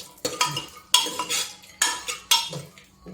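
Kumhadauri, dumplings of grated white ash gourd and urad dal, roasting in a pan: a handful of sharp metal scraping and clinking strokes from a spoon against the pan at uneven intervals, with a faint sizzle underneath and no talking.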